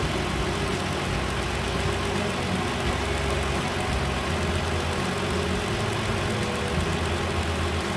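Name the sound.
Hyundai Santa Fe 3.5L engine idling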